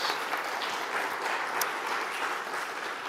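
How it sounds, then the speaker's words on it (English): A church congregation applauds during a Sunday service, a dense, even wash of clapping held at moderate level throughout, with no voices over it. "That deserves that applause"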